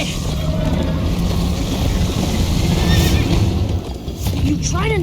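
Horse in the Minecraft Story Mode game giving a neigh near the end, heard over a constant loud rumble of galloping and rushing background noise.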